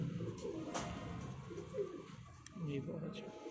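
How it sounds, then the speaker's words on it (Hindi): Pigeons kept by a breeder in Multan coo softly in the background, faint and intermittent beneath nearby talking. "काशिफ भाई के कबूतर हैं ये।"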